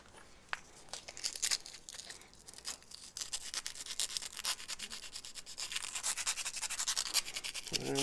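Sandpaper of 180 grit rubbed by hand over a pen tube to rough up its surface, a dry scratchy rasping in short uneven strokes that grows steadier and louder toward the end, close up with no talking.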